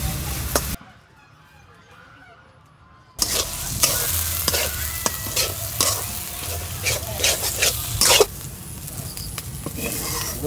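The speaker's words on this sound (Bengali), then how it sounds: "তারপরে বাদাম বাটা দিয়ে আবার ভাজতেছি।" Vegetable stalks fry with ground nut paste in a pan, giving loud, close sizzling and scraping, stirring strokes. A short quiet gap comes near the start before the frying resumes steadily.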